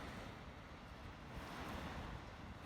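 Steady, blustery wind buffets the microphone on a warm day in Puerto Madryn, a continuous broadband roar that swells slightly toward the end with no voices.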